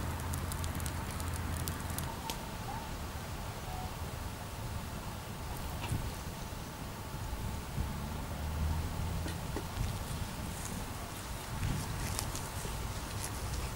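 Campfire being lit using grain moonshine heads as fire starter outdoors, a steady crackling, rushing burn with scattered pops and snaps at moderate level throughout, no speech.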